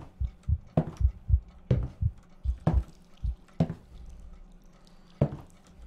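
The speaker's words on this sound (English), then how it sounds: "Heartbeat, what?" A heartbeat thumps in the video game Ildefonse, loud, close and muffled, in quick lub-dub pairs for several beats before fading, then a single beat returns.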